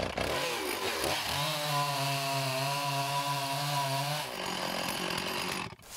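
A chainsaw revs into a cut through wood, its steady buzzing drone holding loud and close for about three seconds before dropping back to a rougher idle rattle.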